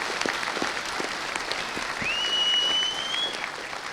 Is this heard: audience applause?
yes